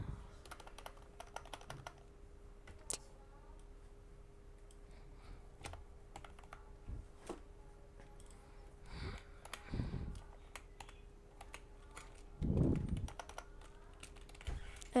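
Computer keyboard typing while code is entered: scattered key clicks and soft taps, irregular and fairly close, over a quiet room, with a few heavier thumps near the end.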